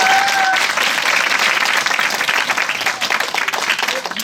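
Studio audience applause opening a Korean current-affairs interview show, dense steady clapping filling the whole clip at close range, with a brief whistle near the start and faint voices mixed underneath.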